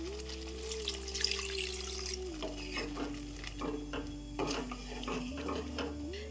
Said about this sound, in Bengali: এবার পরিমাণ মতন জল অ্যাড করে দেব